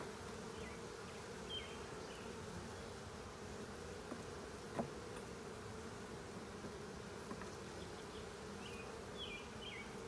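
Honey bees from a swarm that settled into a hive buzz constantly during a hive inspection, a dense, close, steady hum with occasional faint clicks from the hive.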